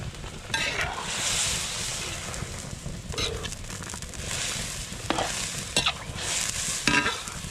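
Fried milkfish cooks in a pan with a steady bubbling sizzle, punctuated by occasional scraping clinks of a utensil, moderately loud and close with no voices.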